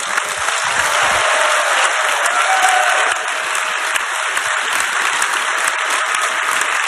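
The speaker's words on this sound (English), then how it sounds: "And a round of applause, please." A large convention crowd at Star Wars Celebration in Orlando applauds game developers, a loud, dense, unbroken roar of clapping that fills the hall from start to finish.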